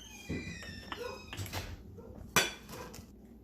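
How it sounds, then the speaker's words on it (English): A quarter-cup measure scoops a mixture into a 16-ounce glass mason jar, making light clinks and scrapes with one sharper clack of the cup against the glass, all close by with no talk. "We're going to take our 1/4 cup into a 16-ounce mason jar. And just scoop it all up in there."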